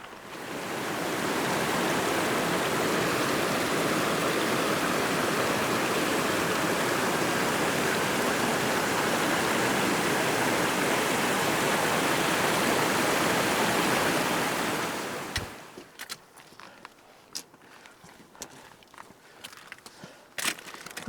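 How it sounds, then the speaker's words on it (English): Waterfall at the outflow of Little Pothole Lake, a loud, dense roar of rushing water that fills the first fifteen seconds, then drops away to quieter scattered sounds and a few clicks. "There's also a waterfall right here, outflow"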